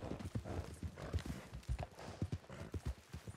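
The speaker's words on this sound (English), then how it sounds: "I never noticed horses down here." Horses clip-clopping in the video game Red Dead Redemption 2, with a steady patter of hooves on hard ground, close, under light background ambience and faint game sounds.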